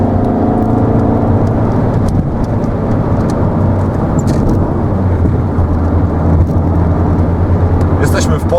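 A Renault Scenic driven in winter cold overtakes a BMW, its engine droning and road noise rumbling steadily and loudly inside the cabin as the driver talks.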